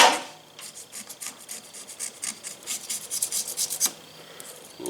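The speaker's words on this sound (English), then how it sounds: "just a little blade scraper. Wipe it down a little bit." A small blade scraper rasps repeatedly across a part of a square-body pickup's thermostat housing during engine work, a steady run of close, gritty scraping strokes with no voices.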